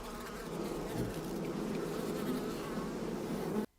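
Bees buzz in a dense, continuous swarm in a film scene, a steady droning hum that cuts off abruptly at the end.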